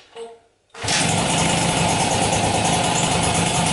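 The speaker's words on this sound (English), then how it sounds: "So first, to start it up, get the fuel running. Ignition on. Get the choke. And hopefully it's only one kick." A Peugeot Fox Deluxe 50cc moped engine is kick-started: a brief quiet pause, then it catches abruptly and settles into a loud, steady, buzzing idle close by, with no talking.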